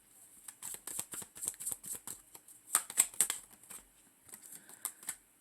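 Tarot cards are shuffled and drawn by hand, a quick run of soft, papery flicks and riffles with a few sharper snaps, close and fairly quiet, alone without speech.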